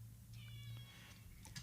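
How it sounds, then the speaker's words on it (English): A cat meows pitifully indoors, a faint, drawn-out plaintive cry followed by a couple of shorter mews over a low background hum. "if you can hear the cat, he's just meowing in a very pitiful way"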